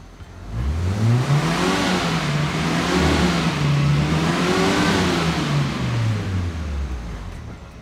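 A car engine running with no oil revs up and down in smooth, rising and falling sweeps, loud and close, with a continuous whirring roar throughout and no talking.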